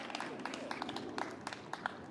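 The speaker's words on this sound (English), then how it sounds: "A big round of applause for Joshua." Light, sparse clapping from a small audience, fairly faint and patchy, with individual claps standing out over a soft background.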